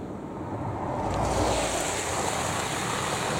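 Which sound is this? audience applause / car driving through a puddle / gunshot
car driving through a puddle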